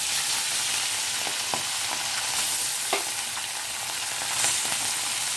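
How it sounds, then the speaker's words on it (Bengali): Fish sizzles and spits in very hot oil in a wok, a dense, continuous crackling hiss with occasional sharper pops, close and steady. "এবার আমি এক এক করে মাছগুলো ছেড়ে দেব। সমস্ত মাছ আমি ভেজে তুলে নেব।"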